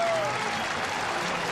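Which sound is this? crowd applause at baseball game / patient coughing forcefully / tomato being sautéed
crowd applause at baseball game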